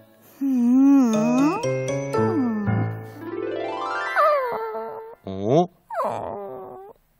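A puppy whimpers and whines close by in high, sliding, drawn-out cries, several in a row with short gaps, the last ones brief and rising.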